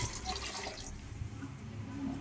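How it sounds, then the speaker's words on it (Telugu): Water is poured into a pan of chicken curry with green peas, a faint, steady splashing trickle that fades after the first second into a quiet simmering hiss. "నీళ్ళు పోసుకుంటున్నాం."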